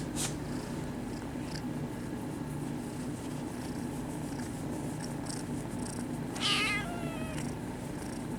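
Several kittens purr in a close, steady, soft drone, with a short meow breaking through near the end; no one speaks.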